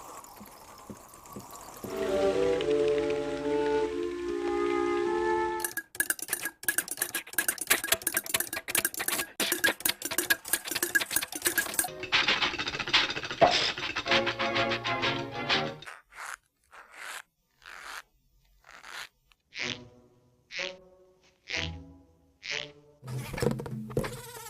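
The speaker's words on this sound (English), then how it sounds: "by rotating it slowly, you'll get the rain sound." A rotating rain-effect machine filled with nails and Mexican peas: a dense rattling patter of small hard objects tumbling and sliding, shifting into scattered clicks and separate rhythmic swishes toward the end.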